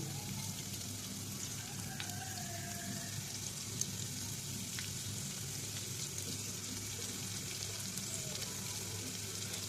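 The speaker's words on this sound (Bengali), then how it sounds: "পেঁয়াজ কুচিগুলোগুলো দিয়ে দিচ্ছি এই যে পেঁয়াজ সাথে দিয়ে দেবো রসুন" Chopped onions and garlic frying in hot oil for a handi beef dish, a steady broadband sizzle running throughout at moderate level, with faint background voices underneath.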